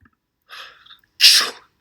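One person sneezes: a short breathy intake, then a sharp, loud, close burst of the sneeze, alone and without talk.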